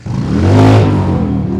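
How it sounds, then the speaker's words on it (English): Motorcycles in a Halloween parade rev loudly nearby, the engine roar swelling and fading over a second and a half. "Everybody down there can hear those motorcycles."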